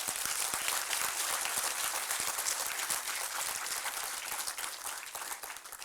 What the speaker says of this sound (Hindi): एक बार माई होम इंडिया के लिए जोर से ताली बजाइए आप सब